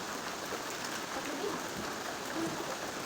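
Steady rain falls outdoors at a rural farm in the early morning, a constant soft hiss with no pauses and no talking.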